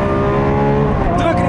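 Lamborghini Aventador SVJ from 2018 accelerating hard out of a corner, its engine a loud, dense harmonic roar close by that holds steady and then shifts pitch near the end, with a voice speaking over it.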